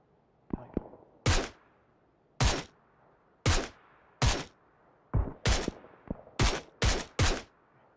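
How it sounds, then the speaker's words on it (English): Gunshots ring out in the PUBG video game: about a dozen sharp, loud single reports come in an uneven rhythm, some in quick pairs, over a quiet background. "So that's four shots."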